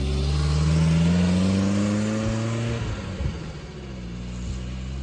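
Land Rover 90 V8 fitted with a Range Rover 3.9 engine revs up loudly and close, climbing in pitch, then drops back to a rough, burbling idle.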